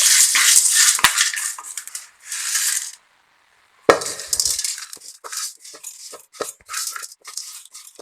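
Fried, crisp curry leaves are scraped from a pan into a mixer jar, making close, irregular metallic scrapes, clinks and rustling crunches with a brief pause partway through; no talking.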